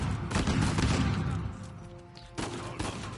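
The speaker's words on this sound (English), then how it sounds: "this gun doesn't have the best hip fire, but I take what I can get." Rapid bursts of gunfire from a gun in the video game Uncharted 4, loud and dense for the first second and a half, easing off briefly, then resuming in a second burst of shots.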